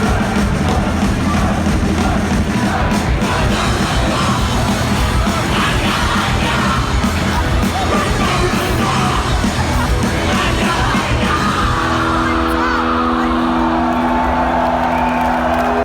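A packed crowd at a punk band's set on the Festival Public stage at Reading Festival roars and yells continuously and loudly, and amplified music begins to ring through near the end.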